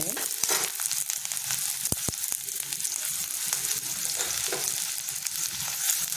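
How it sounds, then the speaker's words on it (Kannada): Onion and garlic fry in hot oil with popping mustard seeds, a steady broadband sizzle with occasional sharp crackles and stirring scrapes throughout, close and fairly loud with no talking. "ಎಣ್ಣೆಗೆ ಸ್ವಲ್ಪ ಸಾಸಿವೆ ಹಾಕಿದ್ದೀನಿ ಅದು ಚಿಟ್ಕೊಡ್ತಾ ಇದೆ ಈಗ ಈರುಳ್ಳಿ ಹಾಕ್ತೀನಿ ಹಾಗೆ ಸ್ವಲ್ಪ ಬೆಳ್ಳುಳ್ಳಿನೂ ಹಾಕ್ತೀನಿ"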